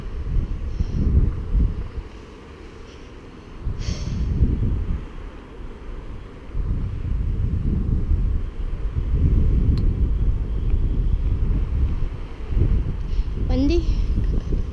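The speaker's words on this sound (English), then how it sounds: "Windy." Wind at Crookston Castle buffets the microphone in loud, gusty rumbling bursts that rise and fall across the clip, with someone speaking briefly amid the gusts.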